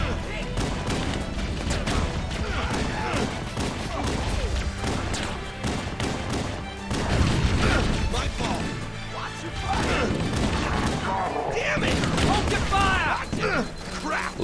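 Rapid automatic gunfire and impacts in Halo: Combat Evolved on The Silent Cartographer level, dense bursts of shots and crashes layered with game music, continuous and loud with a player's voice talking over it.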